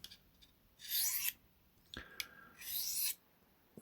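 A knife blade is drawn across a sharpening stone by hand in two slow, bright rasping strokes separated by a quiet pause with a light tap, close and crisp.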